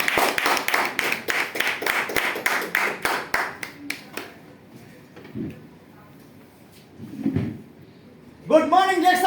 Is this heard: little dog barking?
no